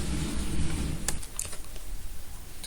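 Keys on a computer keyboard are tapped in a short burst of quick clicks, close and clear, after a low hum, with no talk.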